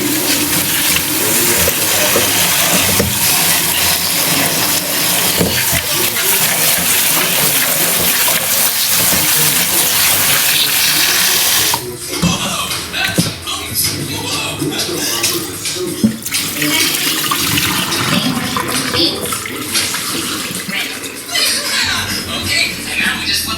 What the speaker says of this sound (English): Give a nice rinse on all of them kale right there.